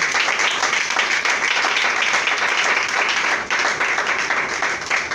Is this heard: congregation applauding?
yes